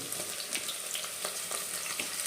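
Ginger garlic paste sizzling in hot oil in a pan while cooking tomato bath, a soft steady crackle with light stirring scrapes, fairly faint and without talk.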